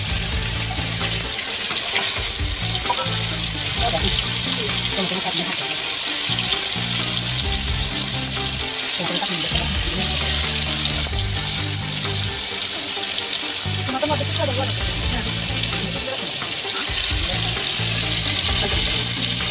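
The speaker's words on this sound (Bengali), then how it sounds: "দেখো বন্ধুরা মাছ ভাজা হচ্ছে" Katla fish frying in oil in a pan over a village kitchen fire, a loud, dense, unbroken sizzle and spatter lasting throughout, close and steady, with no talk.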